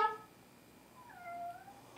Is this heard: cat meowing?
yes